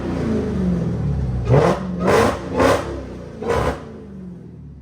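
Dodge Hellcat with a mid muffler delete exhaust idles with a loud, rumbling burble. Four sharp revs swell and drop away in turn, each one roaring close and heavy.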